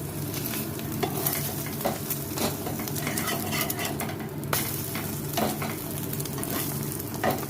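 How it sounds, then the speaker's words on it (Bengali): An egg omelette sizzling in a frying pan as it is folded over, with a steady crackling fry under irregular scraping and clinking of a spatula or utensil against the pan, close up. "এখন আমি অমলেটটা ভাজ করে দিচ্ছি"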